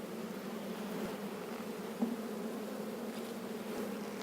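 A dense, steady buzz of many honey bees close by at an open hive, continuous throughout with a faint tap midway.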